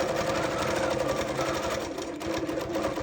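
A quilting machine stitches through embroidery, giving a steady, fast mechanical whir with a rapid needle rhythm that runs continuously and close by.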